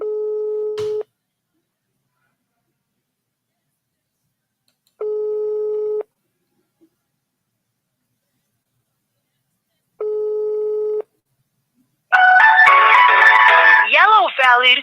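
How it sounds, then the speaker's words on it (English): A telephone rings out on a call, three evenly spaced electronic ring tones several seconds apart with silence between, clear and alone, followed by a louder burst of speech at the end. "The person phone is ringing."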